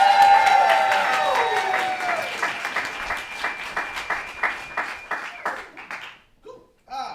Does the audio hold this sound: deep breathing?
no